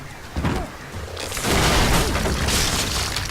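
A gunshot booms in the video game Alan Wake, set in a mine, a loud, sharp blast followed by a rolling burst of heavy noise over the game's dynamic music.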